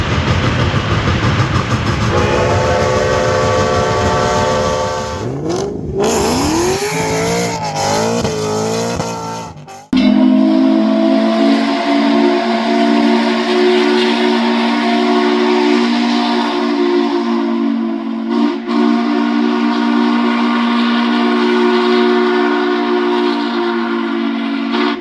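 Western Maryland Scenic Railroad steam locomotive No. 1309 sounds its whistle loudly and close by. Several harmonic blasts and a bending, wavering tone are followed by a long sustained chord over the rumbling train.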